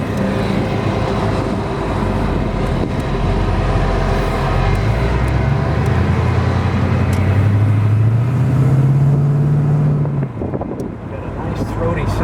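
A 1940 Ford Deluxe Convertible with a 351 Cleveland V8 runs and revs, a loud, deep rumbling engine note that climbs in pitch, then drops off, with wind buffeting the microphone and people talking over it.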